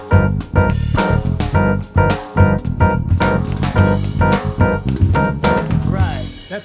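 Funk groove built on a dominant chord with a sharp 9, played as rhythmic stabs and stopping on a final hit near the end, loud and up close with no talking.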